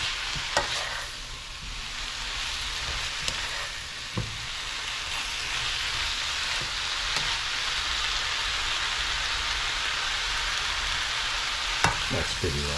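Cabbage and carrots sizzle steadily in a hot pan, with occasional scrapes and knocks of a utensil stirring them close by.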